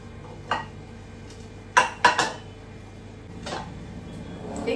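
Pots, lids and utensils clink and clatter in a home kitchen as a pressure cooker is set up for spinach and chana dal, with a few sharp metallic knocks over a quiet background.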